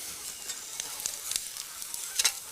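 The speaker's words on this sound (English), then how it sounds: "We just sear that lightly on both sides." Meat sears lightly in butter in a pan, a soft, steady sizzle and crackle with a few sharper spits and pops, fairly quiet and with no talk.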